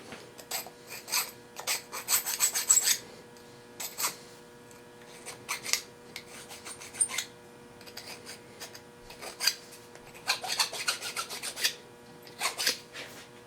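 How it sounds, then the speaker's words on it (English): A hand file rasps a burr off the end of a metal governor spool, with short, close scraping strokes in uneven bursts and brief pauses between them. "I need to file the end off of there, get the little bit of a burr on the end."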